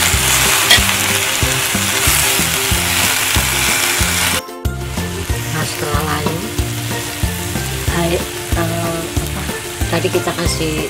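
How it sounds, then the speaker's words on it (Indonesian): Water spinach (kangkung) stir-fried in spicy seasoning crackles in a loud, dense sizzle close by, with rhythmic stirring scrapes and a brief break midway before the frying resumes. "setelah bumbu berlarut baru kangkung kita masukkan. Nah, aduk-aduk sampai merata, sampai matang."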